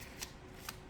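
A tarot card deck being shuffled by hand, two short riffling bursts of cards about half a second apart, close and soft with no voices.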